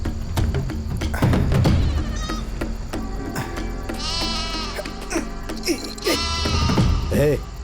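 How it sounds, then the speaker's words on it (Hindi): A goat bleats several times nearby, wavering cries mixed with people talking and some thumps in the background. "ये बकरी यहाँ कहाँ से आ गई रे?"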